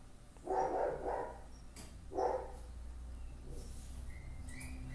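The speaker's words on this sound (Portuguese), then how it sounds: "vocês vão ficar com esse sonzinho de cachorro aí no fundo do vídeo" Dogs barking in a neighbouring yard, a few muffled barks at a distance around the first couple of seconds, with no talking over them.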